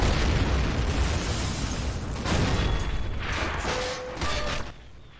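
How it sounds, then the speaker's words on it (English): Mortar and autocannon fire in the World War II strategy game Men of War: Assault Squad 2, a loud, continuous rumble of overlapping explosions and booms with sharper bursts, fading slightly toward the end. "We got mortars and autocannons punishing them on that side."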